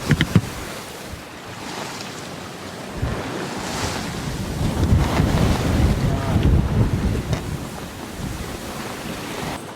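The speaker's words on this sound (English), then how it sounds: "we got some waves going on here" Rough sea surging and splashing around a sailboat, with gusty wind buffeting the microphone; the rushing swells rise and fall, loudest toward the middle.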